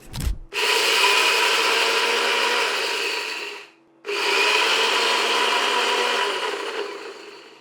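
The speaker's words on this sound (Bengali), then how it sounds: "চাল আর নারকেল একটু বেটে নিয়েছি।" Gobindobhog rice and chopped coconut are ground to a paste in a loud, close, rasping whir. A short knock comes first, then two long runs of grinding with a brief pause between them.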